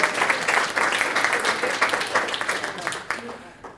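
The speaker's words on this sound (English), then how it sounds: "give them a round of applause" An audience gives a dense round of applause, many hands clapping steadily for several seconds before tapering off, close and full.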